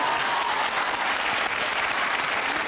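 A TV talk show studio audience claps in a loud, dense, even burst that carries unbroken to the end with no voices on top.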